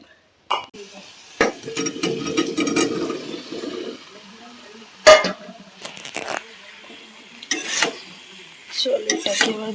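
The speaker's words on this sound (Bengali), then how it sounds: "চলো এটাকে এবার ভালো করে কষিয়ে তারপরে জল দেবো" Soybean curry masala with ginger, garlic, cumin and chilli paste being stir-fried in a pan, with bursts of sizzling and sharp scraping and clanking of a spoon against the pan, close, while a voice speaks briefly.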